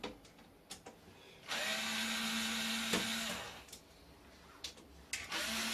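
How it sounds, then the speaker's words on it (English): A cordless electric screwdriver whirs for about two seconds while backing screws out of a Dell Vostro 270s desktop, with shorter bursts and clicks of handling around it, close and fairly loud. "He wants to use the electric screwdriver for everything."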